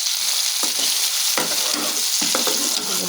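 Chopped onions sizzle in hot oil in a pan, a constant loud hiss broken by several scraping stirring strokes spaced irregularly across the few seconds.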